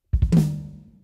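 A drum flam played slowly and close up: a quick pair of low thirty-second-note kick thumps leads straight into a snare hit that rings out and fades.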